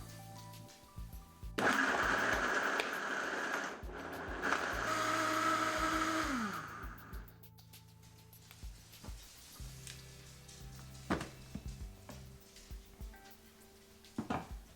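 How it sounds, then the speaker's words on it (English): A blender roars loudly for several seconds, its motor pitch shifting as it works through a hot malai kofta puree of cooked ingredients, then cuts off, leaving quiet kitchen clatter. "We'll go ahead and get it all blended up now."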